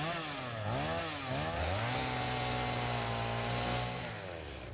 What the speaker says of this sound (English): I can clean up the rocks. That's cool. With a chainsaw, baby.